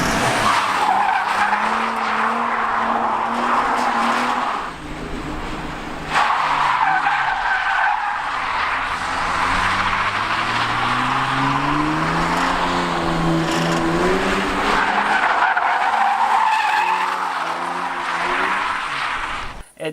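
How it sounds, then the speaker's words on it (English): A drift ute with a noisy, failing clutch thrust bearing, its engine revving loudly with sweeping tone changes and tire skidding, close and continuous, without voices. "the thrust bearing was bad before I even began, and noisy"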